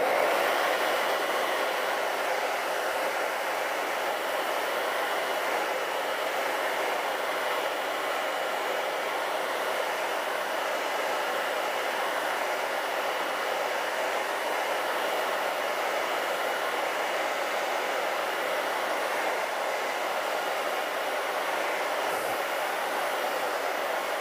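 A hair dryer blows steadily to dry acrylic paint on a painting of a bayou gas station and store. It gives a constant loud rushing whir for over twenty seconds with no change in pitch or volume.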